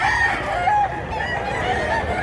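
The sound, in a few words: rooster crowing at a gamecock market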